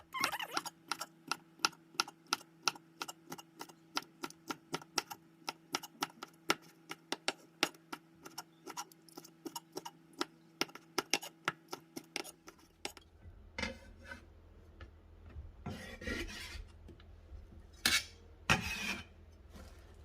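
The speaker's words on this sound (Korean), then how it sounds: "그 오징어 한 마리를 통으로 썰어주세요" A knife chops a whole blanched medium-sized squid on a board, giving a rapid run of sharp, close, evenly spaced taps that later slow into fewer, heavier cuts.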